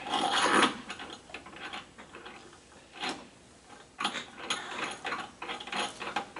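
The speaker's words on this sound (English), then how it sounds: "then you have a little drawbar, a threaded drawbar, that we're going to put right in there" A small threaded drawbar is fitted into a milling cutter collet, making close metallic ratcheting clicks and scrapes in intermittent bursts, with quieter gaps between and no voices.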